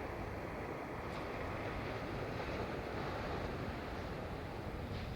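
Wind buffets the built-in microphone of a Sony ZV-E1 camera outdoors, producing a loud, steady, rumbling roar that continues unbroken and alone.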